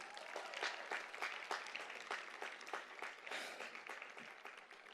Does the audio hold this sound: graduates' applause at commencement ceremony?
yes